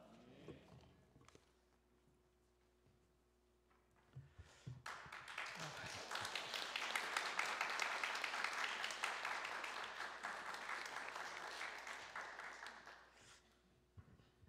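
A church congregation applauds a preacher at the pulpit; after a few quiet seconds with scattered taps, clapping swells into a sustained, moderately loud round and fades near the end, with faint voices around it.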